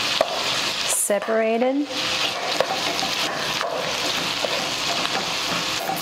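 Lamb pieces searing in a hot pan over medium-high heat for a lamb and chickpea curry, a loud continuous sizzle with utensil scrapes and knocks, briefly under a short spoken remark near the start.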